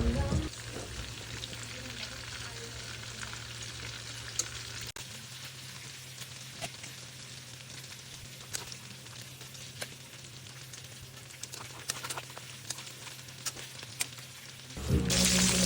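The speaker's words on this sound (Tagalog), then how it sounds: "babawasan ko lang yan ng konti para talagang maprito na siya sa ayun, maprito" Pork mesentery chicharong bulaklak fries in oil with a steady, even crackling sizzle like light rain, fairly faint and continuous, with a louder burst near the end.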